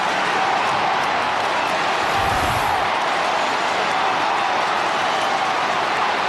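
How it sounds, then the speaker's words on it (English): Steady roar of a large stadium crowd at an Adelaide versus Carlton Australian football match in 2009, a constant wash of cheering and noise with a brief swell in the middle. "the crowd is still getting involved"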